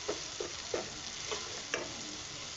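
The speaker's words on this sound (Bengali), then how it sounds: "আদা বাটাটা দিয়ে একটু সামান্য কষে নেব।" Ginger paste frying and being stirred in a pan for vegetarian ghugni, with a steady close sizzle and about five distinct scraping strokes of the spoon at irregular intervals.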